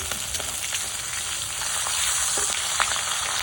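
Flipped pangas fish pieces crackle in hot oil in a pan, a steady, close sizzle with scattered small pops and spatters, swelling slightly partway through.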